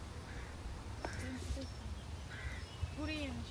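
Birds call in a wooded city park in Istanbul, Hacı Osman forest, with a few distinct crow-like caws and short chirps scattered over a quiet, breezy background.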